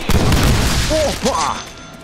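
Explosions in a Deadpool video game: a loud burst of booming blasts and crackling gunfire fills the first second, then tails off into quieter game noise.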